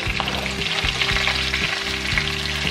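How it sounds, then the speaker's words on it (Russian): Chopped onion hits well-stewed meat in a hot pot for plov, setting off a loud continuous sizzle and frying crackle close up, with no voice over it. "я протушила хорошо мясо, закидываю туда лучок. Я вот так прям бросаю."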